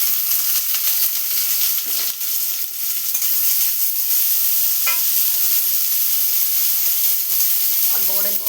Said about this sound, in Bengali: তেলটা ভালো মতন গরম হয়ে গেছে। একটা শুকনো লঙ্কা ছেড়ে দিয়ে দিলাম, আর কাঁঠাল দানাগুলো দিয়ে দিলাম।